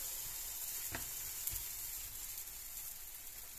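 Batter sizzling on an Action plancha griddle, a steady close hiss with a few soft taps and scrapes, no voices.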